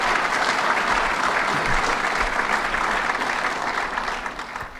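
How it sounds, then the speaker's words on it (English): Steady, dense audience applause fills a Buffalo event hall at full strength throughout, tapering only slightly toward the end. "Let's give her another round of applause."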